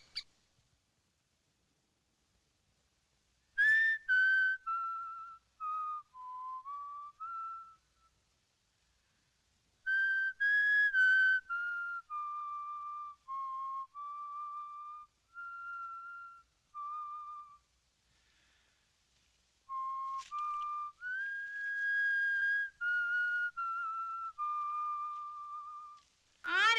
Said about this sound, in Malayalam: അവിടെ ചൂളം അടിക്കുന്നേ